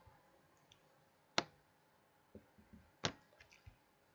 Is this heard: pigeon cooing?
no